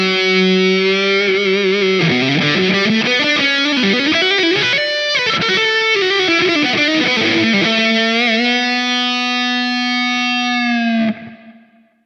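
A distorted electric guitar solo from a Line 6 Helix recreating a classic song's tone, with sustained bends and fast runs, soaked in bright, long-tailed reverb, ending on a held note that fades out.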